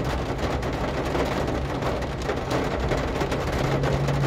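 Heavy rain drums steadily on a car roof and windows in Jakarta, a dense, continuous roar with no letup and no talking.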